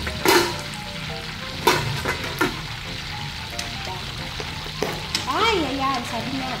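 Whole pork leg deep-frying in hot oil for crispy pata, a close, continuous crackling sizzle with sharp pops and spatters, plus a few clinks and light scraping from the pan.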